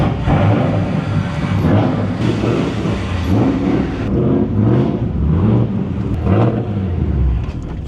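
A BMW E36 engine runs steadily nearby just after being jump-started, with a rough, low rumble and a few mild swells in revs, loud and without talk.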